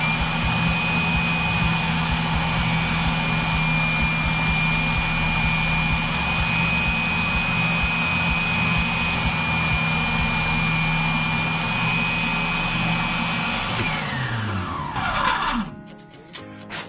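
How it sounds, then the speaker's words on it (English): A bench grinding wheel chamfers the edge of a Royal vacuum cleaner wheel, giving a loud continuous whine and rumble that holds steady before the motor spins down near the end. "I'm going to put this on the grinding wheel, and we're just going to take that down."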